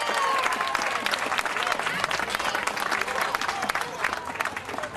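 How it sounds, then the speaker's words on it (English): A crowd claps and cheers loudly, a steady wash of applause with voices mixed in, fading slightly toward the end. "Let's have a round of applause for our artists."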